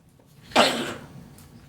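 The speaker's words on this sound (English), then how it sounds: "I apologize, everybody, for coughing." A single sharp, close cough bursts out at a township trustees meeting in Brunswick Hills, Ohio, then trails off into quiet room noise.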